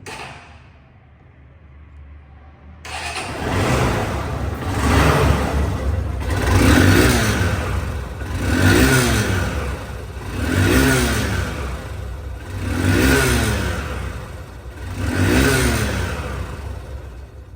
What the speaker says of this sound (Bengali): বাইকটি সাউন্ড কোয়ালিটি শুনুন